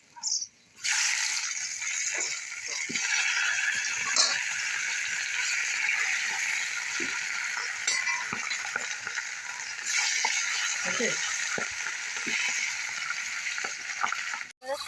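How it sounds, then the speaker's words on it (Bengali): Fish frying in oil in a kadai, a steady loud sizzle running throughout with small pops and stirring clatter, with no talk. "আমি সব মাছগুলো ভেজে নিয়ে পরে তরকারিটা রান্না করবো।"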